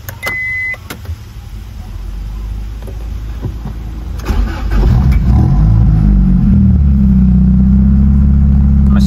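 A brief chime sounds, then a starter cranks and a car engine catches, settling into a steady, close, moderately loud idle.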